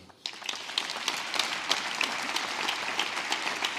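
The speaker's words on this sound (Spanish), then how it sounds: "pido a todos ustedes un caluroso aplauso" Warm applause from an event audience at a Castilla y León Statute anniversary ceremony, starting abruptly after a short quiet moment and then holding steady as dense, continuous clapping with no voices over it.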